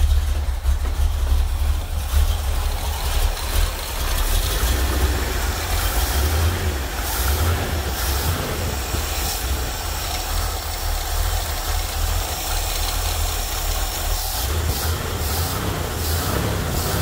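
Chevrolet Corvette C3 V8 under restoration, running and idling after a restart with the carburetor float bowl refilled: a steady, loud low rumble with continuous engine roar throughout and no speech.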